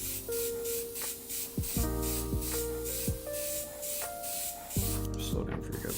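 An airbrush lays down paint in a steady, close hiss broken by short pauses and soft clicks as the trigger is worked, with a voice speaking over it.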